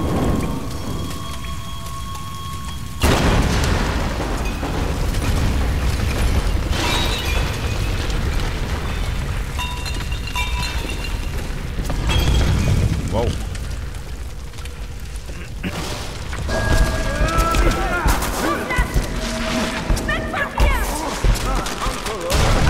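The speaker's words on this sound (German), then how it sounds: "Kleine Explosion." A sudden muffled boom of a small explosion in Tomb Raider (2013) breaks through steady rain-like noise, followed by rumbling and scattered bursts as the downpour continues.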